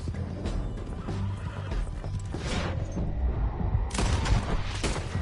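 A horse whinnies and gallops amid gunfire in Red Dead Redemption 2, loud rhythmic hoof beats under dense game action with sharp bursts layered throughout.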